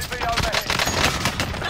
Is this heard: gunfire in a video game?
yes